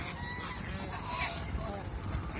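Domestic geese at a farm in Mohanganj honk repeatedly during their mating season, a steady mix of goose calls under voices talking.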